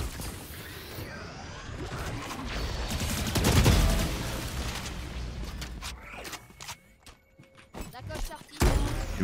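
Gunfire and rapid shots in the Valorant video game, with dense crackling bursts building to a loud peak and then sparser sharp hits, mixed with game effects and a talking voice.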